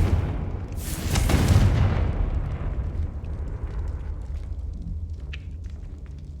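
The Confringo spell in Hogwarts Legacy goes off as one loud, booming blast that swells quickly, then rumbles away over several seconds, with faint crackles trailing behind.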